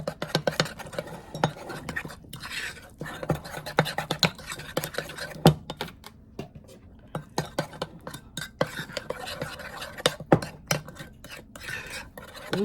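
A utensil scrapes and stirs against the bottom of a bowl while mixing cannoli filling with chocolate chips, giving irregular clinking and scratching strokes close up, with a few quiet pauses.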